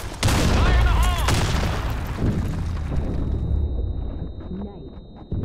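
A grenade blast in Counter-Strike erupts as a loud, close boom with a long rumbling tail that slowly fades amid scattered game noise, and a voice talks through part of it.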